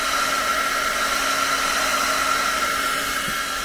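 A hair dryer blowing on a painting made with coffee, a loud steady whooshing drone with a constant whine, running without pause.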